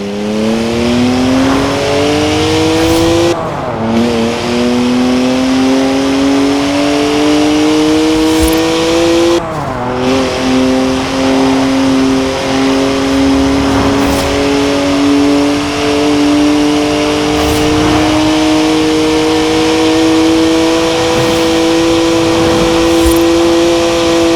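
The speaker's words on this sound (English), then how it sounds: "3-litre straight six, 335 horsepower, 2 turbos, and as much sideways action as you like" BMW three-litre twin-turbo straight-six of 335 horsepower in Forza Horizon 4, revving loudly and steadily through climbing gears with two brief dips where shifts cut the tone, no voices over it.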